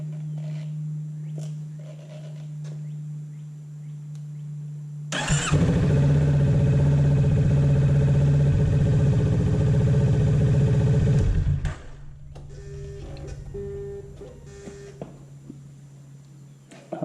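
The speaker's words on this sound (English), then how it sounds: "I'm going to start the engine and get the oil circulating in the engine some" A 2023 Kawasaki Ninja 650 motorcycle engine cranks and catches, then idles with a loud, steady rumble for several seconds before shutting off. A low hum continues before and after.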